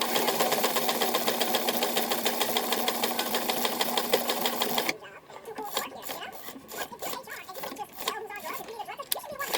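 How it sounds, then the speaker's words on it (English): A sewing machine stitching a Greek goddess dress runs in a fast, even mechanical chatter for about five seconds, close and loud, then stops, leaving quieter handling and rustling noises. "So I'm going to sew this real quick"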